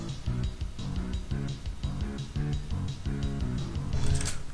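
Duke Nukem DOS game music played as MIDI through an AWE32 sound card setting: a busy, mid-level synthesized track with steady rhythmic bass and drum hits and layered melodic tones, continuous throughout.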